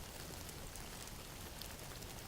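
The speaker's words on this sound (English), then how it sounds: "outside right now, the rain has started again. Soft at first, tapping gently against the window, before building into a steady rhythm" Steady soft rain pattering against a window, a dense even wash of small taps that holds at a constant low level throughout, with no voices.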